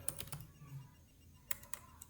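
Keys tapped on a computer keyboard while data is entered, a few quick clicks early on and another short cluster later, fairly close and moderately quiet, with no one talking.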